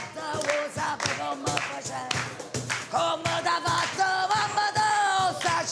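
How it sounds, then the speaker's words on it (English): People clapping and cheering on a street in Naples as a woman sings, with loud yells, whoops and voices over rhythmic claps and music, lively and close. "People are clapping and cheering, and she's just going nuts."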